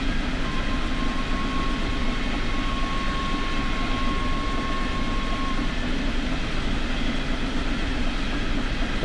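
BR 01 steam special train running in Train Sim World 4: a constant, loud rolling rumble with a steady high whine, unbroken for the whole stretch.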